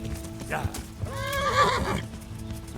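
A horse in the video game Kingdom Come: Deliverance gives a clear, rising whinny lasting about a second, with soft clip-clop hoofbeats and game ambience around it.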